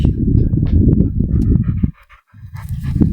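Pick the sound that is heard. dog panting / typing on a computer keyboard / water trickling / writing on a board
dog panting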